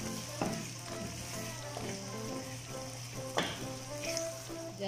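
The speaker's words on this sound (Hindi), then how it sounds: "अभी इसको हम थोड़ा और भूनेंगे।" Mutton karahi fries in a pot, a continuous close sizzle with scattered pops and occasional scraping stir strokes, heard alone without talk.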